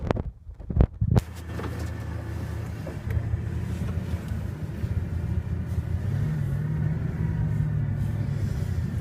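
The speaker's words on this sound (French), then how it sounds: "on va essayer donc la Bugatti de nuit" Bugatti Veyron driving at night through Paris, a low engine rumble with a few sharp knocks at the start, then a steady hum that rises slightly as it moves off.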